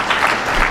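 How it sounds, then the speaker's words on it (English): A short burst of audience applause fills a hearing room at a city mayor's public-safety hearing, dense, steady clapping heard up close with no talking over it. "y'all should have been clapping for that"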